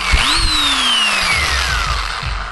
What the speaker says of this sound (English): I just use a drill, wire brush attachment